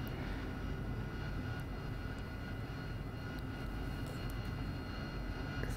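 AV-8B Harrier jet engine roaring at high power during a short takeoff in the DCS flight simulator, a steady, loud, unbroken roar with no talk.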